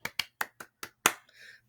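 A quick little rhythm of hand claps: six crisp, close claps at an uneven pace, the last one loudest, then a brief faint ringing tail over a low steady hum.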